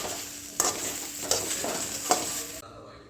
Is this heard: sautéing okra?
yes